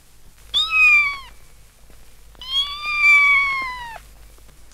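A kitten gives two drawn-out meows, the second longer and louder, each with a rising then falling pitch, close and clear with no talk and a quiet background.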